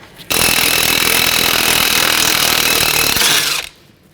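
A power tool, likely an impact wrench with a 17mm socket, spins out the front hub mounting bolts on a 2006-12 Toyota RAV4, a loud continuous whirring burst of about three seconds that starts and stops abruptly, close up.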